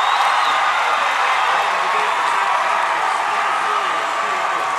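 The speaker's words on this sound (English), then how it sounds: "that dunk by Weeby has got the C of O crowd electrified" A College of the Ozarks home crowd roars and claps after a dunk in a 2011 college basketball game, a loud, dense and steady wash of cheering that fills the gym from start to finish.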